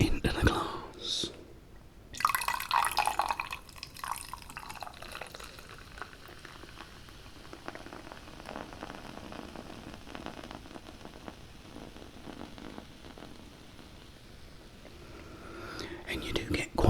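Pepsi poured into a glass of pineapple juice fizzes loudly, a pouring splash at first settling into a long, close, steady crackle of bubbles with soft whispered talk during the pour.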